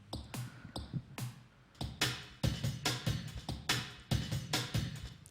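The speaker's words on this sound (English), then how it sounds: "backed up with some FM percussion off an FS1R" Programmed FM percussion from a Yamaha FS1R synthesizer plays a tight, syncopated beat of short punchy hits with sharp clicky attacks and low thumps, repeating in a busy groove at moderate loudness.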